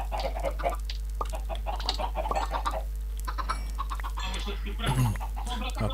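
Chickens cluck in the Minecraft video game, scattered short clucks repeating over a steady low hum, with a voice talking through parts of it.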